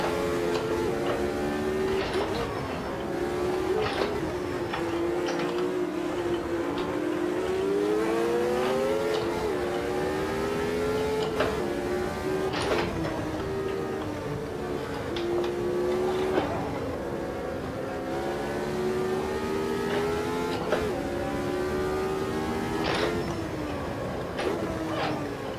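Lotus Type 72E formula car racing at Kyalami in the sim game Automobilista 2, its engine howling and rising through repeated upshifts with sharp gear-change breaks, steady and fairly loud throughout.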